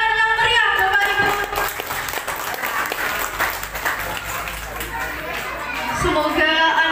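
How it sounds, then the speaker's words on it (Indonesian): Loud, sustained applause from an audience at a kindergarten and playgroup graduation and arts show, with steady clapping filling all seven seconds and a light murmur of crowd voices beneath it. "Beri tepuk tangan yang meriah, Bapak Ibu."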